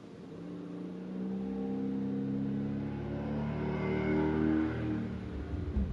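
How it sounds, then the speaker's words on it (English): A truck speeds past outside and builds into a steady, rumbling roar. The engine noise swells toward the middle and then eases slightly, with no talking over it. "there's a truck sound to finish the video off"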